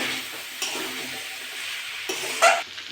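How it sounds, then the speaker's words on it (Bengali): Young jackfruit and potato stir-frying in hot oil in a pan, a steady soft sizzle with occasional scrapes and stirring clatter from a utensil, one sharper clink near the end. "এঁচোড় আর আলুটা দিয়ে দিয়েছি। আমি এবার ভালো করে কষে নেব।"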